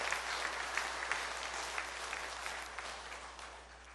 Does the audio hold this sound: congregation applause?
yes